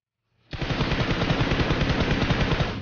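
Sustained burst of rapid automatic gunfire from a Free Fire-style battle royale game, starting abruptly after a brief quiet moment and rattling loudly and continuously to the end, with no talking.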